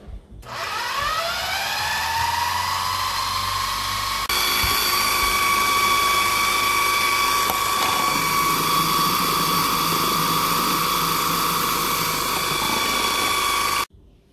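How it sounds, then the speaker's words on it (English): A food processor runs on high while churning cream into butter, a close, loud, steady motor whine that ramps up at the start, holds for about fourteen seconds and then cuts off. "I have let the food processor process that for at least 5 minutes"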